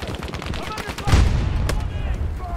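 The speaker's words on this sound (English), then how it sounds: "Getting hot! I'm under fire!" Gunfire in the shooter game Battlefield 2042, a burst of shots with a loud blast near the middle over steady battle noise, with a voice calling out during the fighting.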